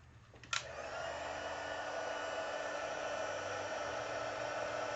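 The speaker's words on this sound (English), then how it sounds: "the heat embossing, I've had a lot of heat embossed guns, and I have to say that the Stampin' Up one just works so fast" Stampin' Up heat embossing gun switching on with a short click, then blowing a steady, loud, close whooshing airflow that runs evenly for the rest of the stretch with no talking.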